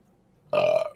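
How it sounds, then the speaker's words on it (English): One short, loud, throaty burp from a man cuts in suddenly after near silence and stops abruptly, close and alone. "I didn't mean to burp like that."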